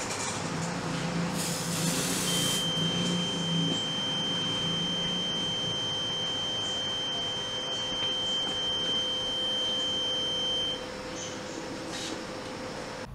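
Reconditioned detector heads sound a steady, thin electronic alarm tone held for several seconds during testing, running over a constant machinery hum with a brief burst of noise near the start.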